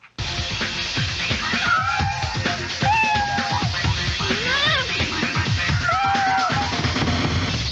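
Kitten meowing repeatedly in a series of high, wavering cries over a busy, scratchy background, with someone talking at times.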